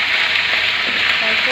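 Ginger garlic paste, about a teaspoon, sizzling and frying in hot oil for a moringa drumstick dish, a steady close crackling hiss that runs unbroken throughout.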